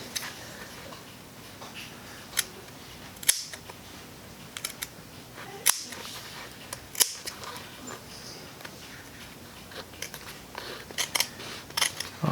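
Scissors cut a covering along marked guide lines during restoration of a Mitsubishi Lancer Evo 8 steering wheel, giving sharp, irregular snips spaced through the clip over a quiet background, with no talking.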